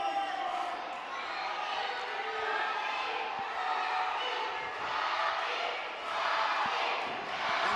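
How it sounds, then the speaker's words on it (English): A large indoor crowd at a wrestling event roars and cheers continuously, swelling in waves, with a commentator-like voice faintly mixed underneath. "Listen to this crowd fully behind their hero, the Redneck Kid, Robby Collins."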